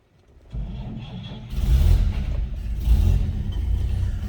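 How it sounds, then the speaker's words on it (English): A 1941 Chevrolet Special Deluxe Coupe is started with a key and floor push-button starter. A brief cranking leads into the engine catching, then a loud rumbling idle that surges with a couple of revs, heard close by. "let's fire this up. Of course, key turn, and you do a push button down on the floor."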